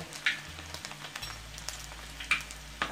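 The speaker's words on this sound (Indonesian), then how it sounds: "Aku gorengnya pakai api kecil aja ya, pakai api kecil." Pork meatballs fry in oil on low heat, giving a soft continuous sizzle with occasional sharper pops and stirring clinks, close but quiet, with no talking.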